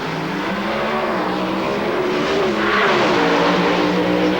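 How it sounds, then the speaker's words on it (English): Drag racing cars roar down the strip at an NHRA national event in Phoenix, a loud, continuous engine howl that swells and builds in intensity toward the end, with no talk over it. "And a very close drag race."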